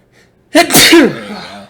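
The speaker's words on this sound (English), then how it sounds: "I had to sneeze" A single loud sneeze bursts out after a brief quiet moment, with a short breathy trail afterward.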